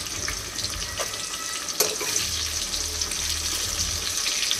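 Potatoes frying in a pan in a home kitchen while a restaurant-style mutton curry is being made, giving a steady, moderately loud sizzle with a faint watery hiss and a brief clink near the middle, with no talking.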